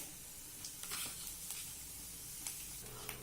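Chana dal and moong dal with peanuts sizzling in hot oil over medium heat, a steady soft hiss broken by a few brief crackles and stirring scrapes, close but faint.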